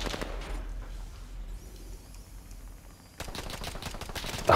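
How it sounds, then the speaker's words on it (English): Video game gunfire crackles in rapid automatic bursts, loud at the start, thinning to a faint lull, then returning in dense close volleys. "now they're shooting at me"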